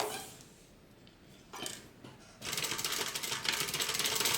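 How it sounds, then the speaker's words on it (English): A sewing machine topstitches a tote bag pocket, starting after some quiet handling sounds and then running in a fast, steady close-up whir. "And now I'm going to top stitch."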